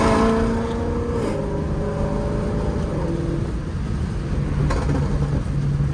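A car with an automatic gearbox and paddle shifters accelerating after a series of downshifts, its engine note rising in pitch over several seconds, a steady loud drone with a brief shift break partway through.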